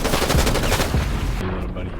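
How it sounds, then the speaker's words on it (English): Mythic Twinfire shotgun in Fortnite firing a rapid string of loud, close, punchy blasts for about a second and a half, then breaking off into quieter game sounds. "Mythic Twinfire shotgun."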